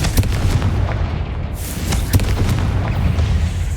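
A Confringo spell blast in Hogwarts Legacy: loud booming fiery explosions with a continuous low rumble and crackling bursts, close and dense throughout.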